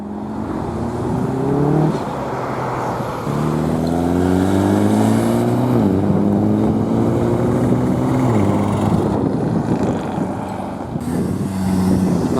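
A smoky Ford Mark 1 RS drives past at a Ford RS gathering, its engine revving up through rising pitch sweeps, dropping between gears and then climbing again as it passes close by.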